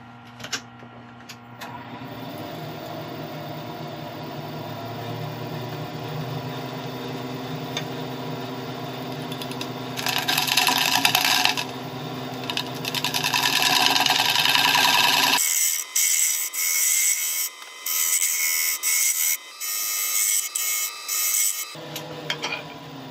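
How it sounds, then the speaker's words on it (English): A wood lathe spins an olive ash bowl while a carbide tool takes gentle passes, giving a steady scraping hum that turns to louder, rougher rasping bursts before stopping and restarting. "I'm just gonna get the lathe up to speed, and then I'm just going to take gentle passes across with the carbide to start clearing the surface"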